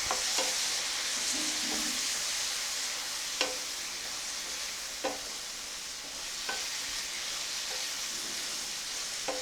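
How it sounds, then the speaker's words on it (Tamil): Tomatoes sautéed with masala powder in a pan for a mushroom pepper masala, a steady sizzle running throughout with a few sharp scrapes of a spoon against the pan. "தக்காளி சேர்த்து நல்லா வதக்கிடலாம்"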